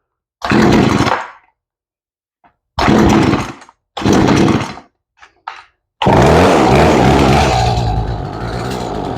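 Chainsaw engine being tuned after a carburetor replacement: three short loud bursts of running separated by silences, a couple of brief sputters, then a sustained steady run that settles slightly at idle.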